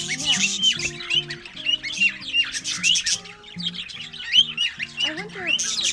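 A rescued bird in Tenerife squawks and chirps loudly and repeatedly up close, harsh calls coming in rapid bursts over several seconds, with faint voices in the background.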